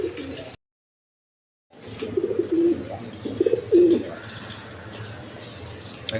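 Domestic fancy pigeons coo repeatedly in a loft at a pigeon seller's, the soft throaty calls fairly close and overlapping, with a short break of silence near the start.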